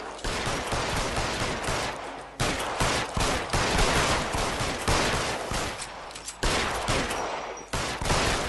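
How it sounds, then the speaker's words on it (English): Loud, sustained video game gunfire, with dense rapid bursts of shots firing almost continuously and a few brief breaks between volleys. "He sure takes a lot of shots. Or a lot of bullets."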